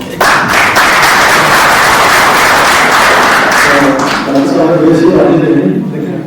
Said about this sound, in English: I think, sir, is a very good round of applause.